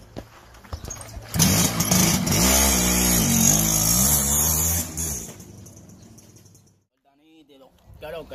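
A car engine turns over and revs, a loud, close mechanical drone with rising and falling pitch that runs for several seconds before cutting out. Quieter sounds follow afterwards.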